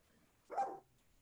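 A single short dog bark from a house, faint and somewhat distant, heard once in an otherwise quiet room.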